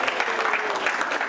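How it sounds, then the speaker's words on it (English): Audience at a recreation center ribbon cutting ceremony claps steadily for a few seconds, a dense, fairly loud wash of hands without speech on top. "I want to give them a special round of applause for making it happen"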